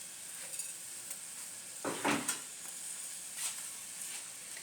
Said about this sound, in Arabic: درنا هنا البصله اللي شلضناها تقريبا 4 ديال البصلات متوسطين في 4 ديال المعالق تقريبا ديال زيت المائده